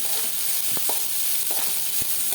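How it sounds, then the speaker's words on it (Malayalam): Two medium onions sautéing in a pan: a steady sizzle with a few soft stirring scrapes and spatula taps. No one speaks. "ചെറുതായി ഒന്ന് ബ്രൗണിഷ് കളർ വരട്ടെ, അതുവരെ ഒന്ന് വഴറ്റി കൊടുക്കുക"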